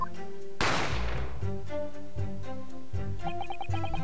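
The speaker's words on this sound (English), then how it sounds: "You heard the gunshot, you mean?" A single loud gunshot with a decaying blast rings out in The Great Ace Attorney Chronicles, set against a steady musical score that continues alone afterward.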